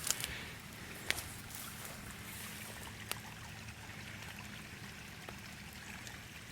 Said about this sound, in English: And just a lot of water flowing.